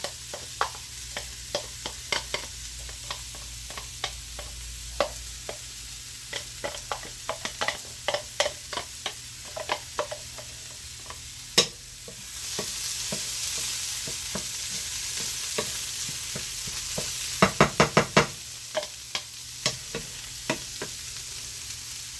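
Garlic stirred in a hot pan with the burner just switched off, giving repeated sharp utensil scrapes and taps over a soft sizzle, with a brief louder hiss midway and a quick cluster of clicks near the end.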